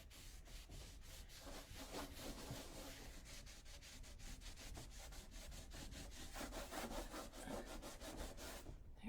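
A painted encaustic surface is distressed by rubbing, giving fast, even, rasping back-and-forth strokes that sound close but quiet and keep going steadily throughout.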